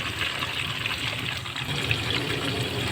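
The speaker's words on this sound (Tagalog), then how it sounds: "dagdagan natin ng tubig at pakulaan at palambutin pa natin ang karne" Water pours steadily into a pan of pork chop broth, a continuous close splashing gush with no talk over it.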